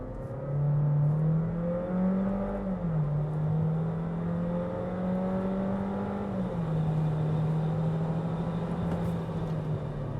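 A Jeep Renegade Série S T270 accelerates hard from a stalled launch up to 100 km/h in automatic mode, its engine note rising steadily and dropping briefly at each gear change, loud and continuous from inside the car.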